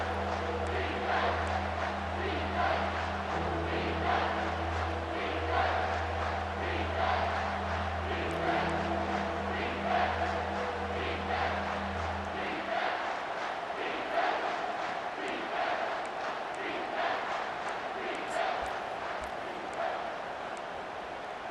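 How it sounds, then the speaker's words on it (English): Stadium crowd roaring in EA Sports College Football 25 as a Tigers defense faces second down, a relentless steady wash of voices under a low droning hum that fades out midway, with game commentary faintly present. "The noise level is relentless here on 2nd down."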